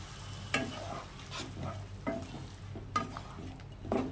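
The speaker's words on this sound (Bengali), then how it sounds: "একটু হালকা কষিয়ে নেব।" Mushroom fried with spices being sautéed in a pan together with chalmagaj, poppy seed and cashew paste, a soft low sizzle broken by several scraping stirs spaced about a second apart, close and fairly quiet, with no talking.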